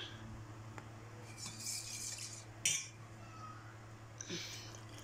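A spoon stirs flatbread dough in a bowl. Faint scraping and light clinks of metal on the bowl come at irregular moments, with one sharper knock near the middle, against a low steady hum.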